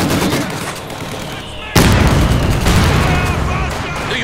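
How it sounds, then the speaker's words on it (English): Mortar fire in Company of Heroes 2 lands as a sudden loud, booming blast partway through, following a rumbling battlefield bed of scattered gunfire that stays busy afterward. "Taking mortar fire!"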